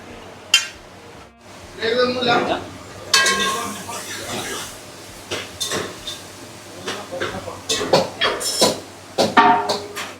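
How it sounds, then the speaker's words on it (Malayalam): Rice is tipped and spread in layers into a pot for Hyderabad biryani before dum, giving scraping, clinking and soft pouring sounds in irregular bursts, with occasional metal knocks. "റൈസ് ഇങ്ങനെ ഇട്ടുകൊണ്ടിരിക്കുകയാണ്"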